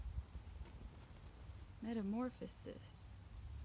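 A cricket chirping in short, regularly spaced pulses, faint and steady in the background, while a person briefly talks over it.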